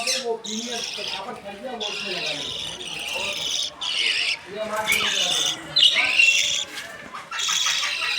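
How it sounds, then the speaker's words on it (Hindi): Budgies and lovebirds kept at a bird shop squawk and chirp loudly at close range in shrill overlapping bursts, with someone talking beneath the calls. "क्यूट क्यूट से चिक्स हैं फ्रेंड्स, और बजीज़ हैं, लव बर्ड हैं।"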